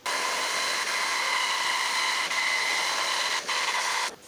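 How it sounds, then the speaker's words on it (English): A bandsaw cuts through blocks of wooden squares glued together, giving a loud, steady whine and hiss that runs for about four seconds with brief dips, up close, no voices. "I need to put these through the bandsaw now that I've got a bandsaw."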